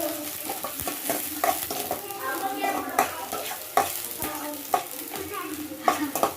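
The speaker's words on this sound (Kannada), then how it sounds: "ಈಗ ಕ್ಯಾಪ್ಸಿಕಮ್ ಹಾಕ್ತಾ ಇದ್ದೀನಿ" Capsicum stir-fried in a pan with onion for a paneer gobi dish: close, constant sizzling with repeated spatula scrapes and knocks in an uneven rhythm, no speech.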